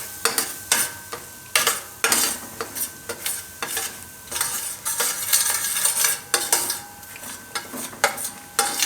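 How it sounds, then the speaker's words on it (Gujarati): Maida flour being roasted in a pan for veg lasagna, a spoon stirring and scraping in repeated rhythmic strokes with a light sizzle underneath, close and fairly loud with no talking. "આમાં આપણે મેંદો નાખી દઈએ, અને આપણે શેકી લઈએ થોડીક વાર."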